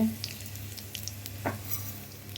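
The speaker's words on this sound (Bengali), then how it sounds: "এবার দেবো সরষের তেল, এবার দেবো একটু কালো জিরে" Black cumin seeds sizzle and crackle in hot mustard oil in a home kitchen pan, a soft steady fry with a few small pops and one brief louder clatter midway, no voices.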